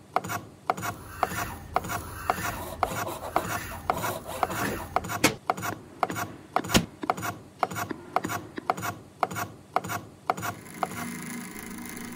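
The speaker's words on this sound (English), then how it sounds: "So I'm having to start with a file." A hand file rasps across the brass fittings of a marking knife handle in steady back-and-forth strokes, loud and close, with a regular scraping rhythm and no talk.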